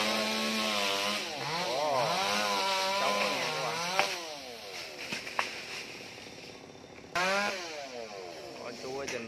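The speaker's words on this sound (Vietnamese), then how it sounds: "Chú ở trên đó cưa lá cho nó gọn gọn bớt lên nha các bạn" A chainsaw cuts coconut palm fronds up in a tree near power lines, the engine revving and bogging in repeated rising and falling sweeps, with a brief pause before another burst; someone talks over it.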